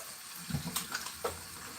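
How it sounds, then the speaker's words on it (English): Hands being rinsed under a running tap at a kitchen sink, with brief splashing and trickling bursts over a steady water hiss, close by and fairly quiet. "Give my hands another wash."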